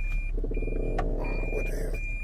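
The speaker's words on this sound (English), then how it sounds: "The rear beeper. Let me know I was in reverse." Reverse beeper on a car, a steady high electronic tone repeating in short beeps over a low engine rumble close by.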